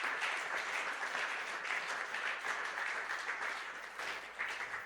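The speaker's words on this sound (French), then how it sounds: "Est-ce qu'on peut acclamer le Seigneur?" A church congregation applauding during a Sunday worship service, steady and fairly soft clapping from many hands, sustained evenly throughout without a break.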